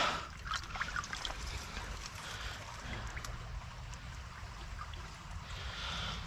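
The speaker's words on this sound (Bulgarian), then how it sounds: "Ще се опитам да ги изчиста във водата" Muddy metal-detecting finds are rinsed and swished in water outdoors, giving a soft, steady watery wash and trickle that stays faint and continuous throughout.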